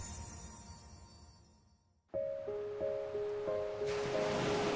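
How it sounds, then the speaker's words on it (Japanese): Ocean waves in a Japanese voice drama: soft surf wash fading out, then after a break a gentle tonal melody enters with a rising, breezy wash of waves beneath it. "波音が聞こえる。"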